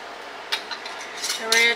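Metal lids being screwed down on glass jars of homemade pizza sauce, a few short scraping clicks and light clinks close by, quiet and alone.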